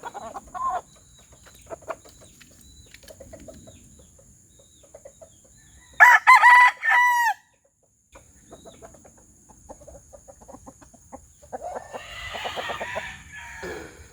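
Roosters from a backyard flock of stags without a bloodline crow loudly in one burst, with scattered clucks and bird calls around it and a closer, busier flurry of fowl sounds near the end.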